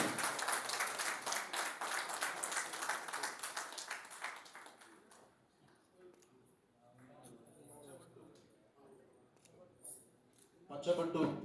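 Audience clapping at a book launch ceremony, a dense round of applause that fades after a few seconds, followed by murmuring voices and a brief final burst of claps.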